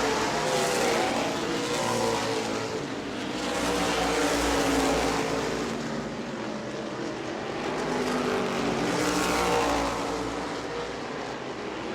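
Modified race cars roar around the New Smyrna track in Florida, a continuous loud engine drone that swells and fades as packs pass by closely, with no voices over it.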